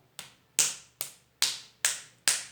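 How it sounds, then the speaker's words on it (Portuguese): Six crisp claps made with the back of the hand, struck close and alone at a steady, slightly uneven pace, each a bright snapping crack that fades fast. "E temos a palma de costa de mão."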